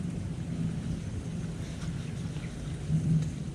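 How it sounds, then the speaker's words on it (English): Steady rain with rumbling thunder falls over an open campfire where a large trout is cooking outdoors, a constant hiss with deeper low rumbles swelling near the end. "the rains are here. Of course it rains when I put the fish on"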